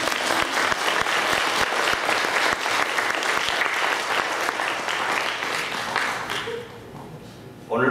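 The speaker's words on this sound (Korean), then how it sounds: "함께 박수 한번 받아요" Applause in a church for the accompanist and a fellow congregant, sustained dense clapping from a full congregation, loud and steady, fading and breaking off near the end.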